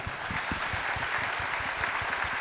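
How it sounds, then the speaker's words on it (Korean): A church congregation claps together at a New Year's worship service, producing a steady, rhythmic burst of many hands applauding throughout, fairly close and even in loudness. "주님께 영광의 박수 올려드리겠습니다"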